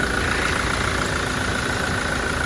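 Toyota Hilux with a 2.8-liter four-cylinder engine idling, a steady, dense mechanical drone with constant loudness and no pauses, heard up close with the hood open and no talking over it.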